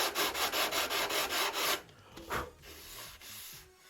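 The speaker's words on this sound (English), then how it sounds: "You can tell when you're there because the sandpaper just glides real nice." Sandpaper rubbed over a wooden wing tip of a Top Flite .60 size P-40E Warhawk model plane, a close rhythmic series of raspy back-and-forth strokes that stops, followed by a few softer scrapes.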